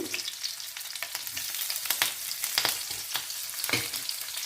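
Cheese-stuffed capsicum fries in four spoons of oil on a tava, giving a steady close sizzle with frequent sharp crackles and pops throughout, and no voices.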